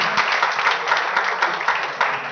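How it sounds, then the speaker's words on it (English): A room of attendees at an award ceremony for a moot competition applauds, a short burst of brisk, closely packed clapping with a few sharper individual claps standing out. "So a round of applause for them."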